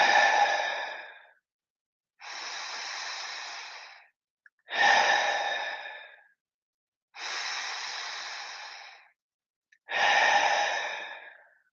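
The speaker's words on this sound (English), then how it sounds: "exhale through the mouth." Slow, deliberate breathing during a breathwork session, in through the nose and out through the mouth, five long airy breaths close to the microphone with short quiet pauses between them.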